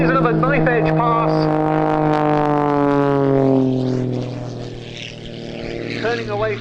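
Rich Goodwin's Pitts muscle biplane roars through a knife-edge pass at an air show, its loud propeller engine note sliding steadily downward as it sweeps by, with a commentator talking over it.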